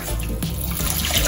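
Tap water runs steadily into a container, splashing continuously at moderate volume, while measuring water for a sorrel glaze in a home kitchen.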